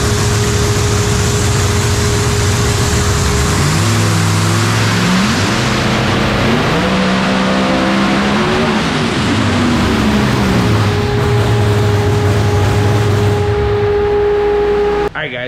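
Prenup truck engine running loud and steady on a hub dyno, a continuous heavy drone with rising and falling pitch sweeps through the middle as it revs, then settling back to a steady roar inside an enclosed shop with a big fan.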